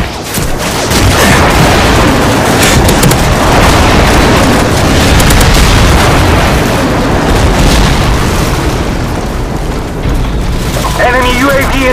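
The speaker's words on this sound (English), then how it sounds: "Friendly airstrike on the way!" Airstrike explosions in the Call of Duty 4: Modern Warfare video game, a dense loud barrage of booms and blasts rolling continuously, with game voice announcements and other battle sounds mixed in.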